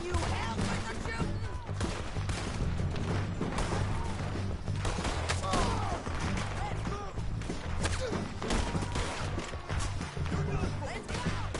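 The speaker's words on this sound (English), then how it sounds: "Can you help with the shooting?" Dense video game gunfire crackles almost without pause, loud and close, layered with a busy mix of game effects and music and voices talking over it.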